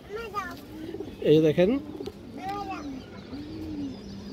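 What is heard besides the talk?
pigeon cooing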